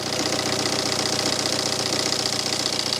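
Car engine idling smoothly in an even, continuous mid-pitched hum with a fine rhythmic pulse, heard close and steady.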